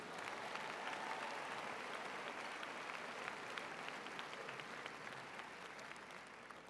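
Graduates at the Villanova University commencement ceremony applaud at length, a broad, even wash of many hands clapping in a large space, steady and fairly distant.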